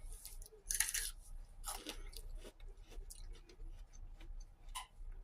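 Someone chewing cold, crisp grapes close up, giving quiet crunchy bites and soft wet chomping in an irregular rhythm with no talking.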